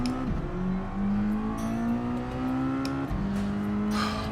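A Super Miata racing engine in Gran Turismo 7 at Suzuka drones steadily and loudly, its pitch climbing through gear changes, with a brief drop near the start and another shift-like dip around three seconds.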